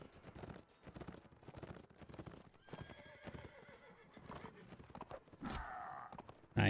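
Horse hooves clip-clop at a gallop and a horse whinnies loudly near the end, set in the Mount and Blade Warband combat game, with game clatter underneath.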